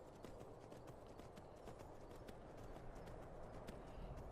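Horse hooves clip-clop steadily in Skyrim on PS4, a continuous close rhythm of hoofbeats under a dense, even game soundscape with no talk.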